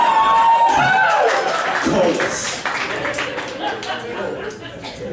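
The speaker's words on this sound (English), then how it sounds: "Applause, round of applause for Phoebe and Chloe." Audience applause and cheering at a comedy show in a Minneapolis brewery, a loud burst that fades as someone talks over it.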